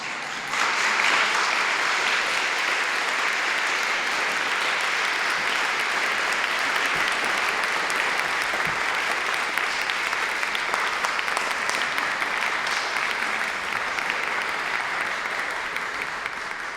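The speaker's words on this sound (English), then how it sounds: "there is a danger in applauding in academic encounters" Audience at an academic conference applauding, a dense sustained clapping that swells quickly and holds steady throughout, fading slightly at the end with no talking over it.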